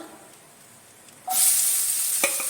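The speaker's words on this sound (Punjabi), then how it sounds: "ਜਵੈਨ ਜੀਰਾ ਥੋੜਾ ਭੁੱਜ ਜਾਏਗਾ ਤੇ ਉਸ ਤੋਂ ਬਾਅਦ ਅਸੀਂ ਪਾਵਾਂਗੇ" Onions hit a pan of roasted ajwain and cumin and burst into a loud, bright sizzle that holds steady, after a quiet start, with a brief stirring clatter near the end.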